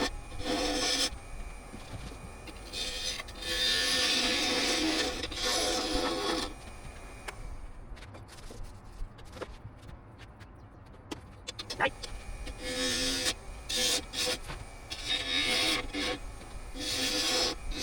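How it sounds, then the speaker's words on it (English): A scrap wood ring holder spins on a wood lathe as a tool hollows it, giving rough scraping and rasping cuts in close, uneven passes that pause into quieter scattered ticks before the cutting resumes. "It's time to start hollowing this out."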